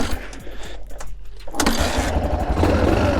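A cold 1986 Yamaha XT600 single-cylinder motorcycle takes a couple of dull kicks before catching at about the halfway point, then settles into a loud, uneven thumping idle close by.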